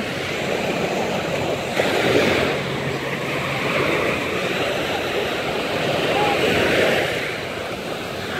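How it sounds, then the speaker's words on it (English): Surf rolls onto a Gulf of Mexico beach in Destin, Florida, a steady broadband wash of breaking waves mixed with gusting wind noise, swelling slightly at moments and continuous throughout. "as far as the eye can see, it is ocean, breathtaking."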